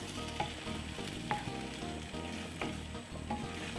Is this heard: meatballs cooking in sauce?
yes